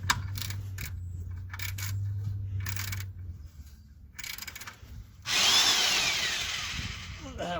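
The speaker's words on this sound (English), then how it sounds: "that was my foot hitting the impact wrench" An impact wrench is used during an oil change on a Hemi, heard as several close, rough power-tool bursts and rattles, then a loud sustained hiss-like roar near the end.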